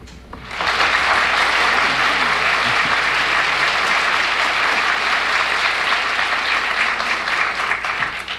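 A 1974 game show studio audience breaks into applause after a brief quiet start, then keeps clapping at a full, even level throughout.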